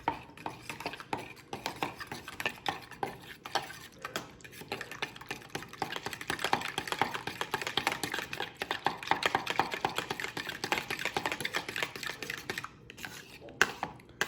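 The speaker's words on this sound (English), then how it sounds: "And then we just want to mix it all together." Gelatin and juice being stirred together in a bowl, producing steady, dense scraping and clinking of a utensil against the bowl throughout, close and busy, with no talking.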